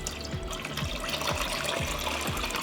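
Water pours steadily into a cooking pot lined with a cloth and set with glass jars, a continuous close rushing splash with no voices.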